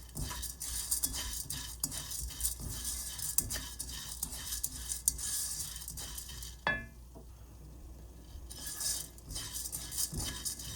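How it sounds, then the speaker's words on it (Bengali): Rice being fried a little at a time in a pan for crunchy puffed rice, with a sizzling hiss and repeated scraping and stirring clatter, close up, briefly quieting partway through. "এখন আমি অল্প অল্প করে যে চাউলটা ভেজে নিচ্ছি"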